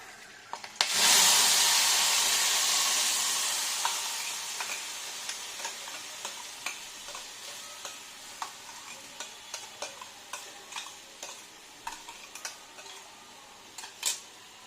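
A paste of coriander leaves, green chili, tomato and garlic hits hot oil in a kadai with a torn green chili, bursting into a loud sizzle that slowly fades, with a scattering of spoon clicks and taps against the pan.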